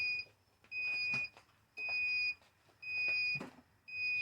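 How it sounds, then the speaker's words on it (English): A heat press machine used to print a picture onto a T-shirt gives out a steady run of sharp electronic beeps, about one per second, with soft handling noise between them. "the machine keep beeping."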